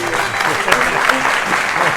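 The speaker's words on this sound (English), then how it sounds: "A little applause." Audience applause during a music interpretation masterclass on a Haydn string quartet, a short steady burst of clapping at moderate loudness with no talk over it.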